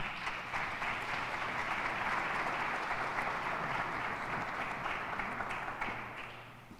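A crowd at a press conference applauds steadily, a dense wash of clapping that holds for several seconds before gradually thinning and fading out.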